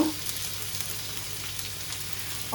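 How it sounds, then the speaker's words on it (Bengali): Spices and turmeric frying in oil in a kadai give a steady, close sizzle with a constant crackling hiss throughout, no voices over it. "এটা আমি কড়াইতেই একদম রেডি করে নেব বুঝলেন তো এই যে একটুখানি ভাজা ভাজা করে নিয়ে হলুদ দিয়েছি"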